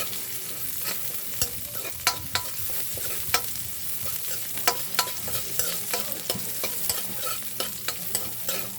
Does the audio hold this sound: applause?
no